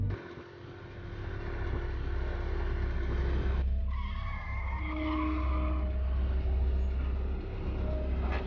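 A car speeds along in a chase, its engine droning steadily and loudly throughout, with a brief whine of tires or engine strain rising near the middle.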